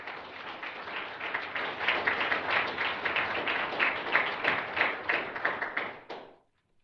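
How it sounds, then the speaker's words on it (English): Audience applause at an event honoring a civil rights attorney, a sustained, even round of many hands clapping that builds slightly and then stops abruptly. "I just want to just stop and clap for him"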